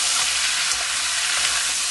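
Blue swimmer crab being stir-fried with garlic for a curry-powder crab dish gives a steady, close, bright sizzle of hot oil with faint scraping of stirring, with no talking.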